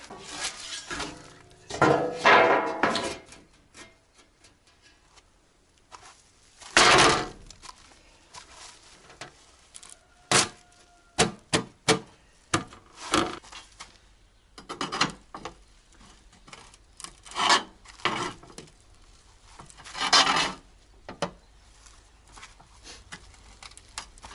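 A thin metal roofing sheet, about a millimetre thick, is being bent into a feeding trough. Scattered sharp metallic clanks, taps and rattles come up close in irregular bursts over about twenty seconds, with no talking.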